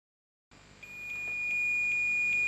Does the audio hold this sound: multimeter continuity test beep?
yes